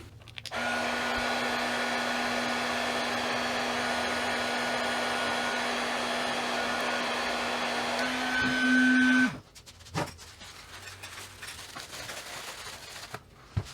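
A heat gun runs with a steady blowing whir while shrinking heat-shrink tubing onto boat switch wiring, holding for about nine seconds, then shutting off, leaving quiet handling sounds.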